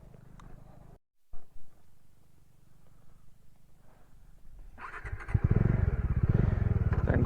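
A Bajaj Dominar 400 motorcycle engine cranks with a brief pause and short bursts, then fires up from about five seconds into a loud, steady idle close by, with no talk.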